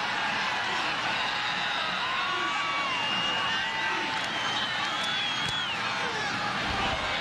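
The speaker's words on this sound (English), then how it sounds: "Great Memphis crowd on hand at the Liberty Bowl" A large football crowd at the Liberty Bowl in Memphis keeps up a steady, loud roar with scattered whoops and shouts, a broad continuous wash of voices throughout.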